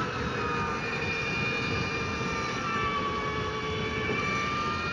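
An Energica electric motorcycle accelerates on a Black Forest road near Schönau, its motor giving a rising tonal whine over a steady rush of wind and road noise.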